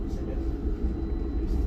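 Low, steady rumble of a busy train station, with a continuous vehicle-like drone and diffuse crowd noise as someone walks through.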